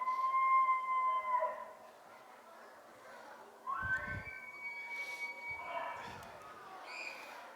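Recorded elk calls play back as high, wavering bugles that rise and fall, with lower cow calls and scattered grunts in the background, all somewhat faint and roomy.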